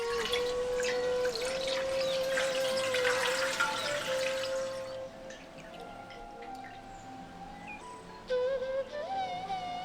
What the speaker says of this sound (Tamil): இப்ப மேல இருக்க தண்ணியை மட்டும் வடிச்சு எடுத்துருவோம்